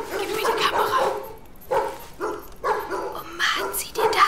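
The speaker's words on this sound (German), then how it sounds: "Die armen Hunde. Total zusammengepfercht." Several dogs crammed together in a dirty, crowded kennel shed bark and yip in repeated bursts, close by, with whimpers between, in a radio drama scene.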